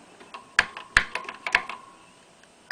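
Computer keyboard keys pressed while playing an Apple II game, a handful of crisp, irregular clacks with several louder strikes, close and dry in a quiet room.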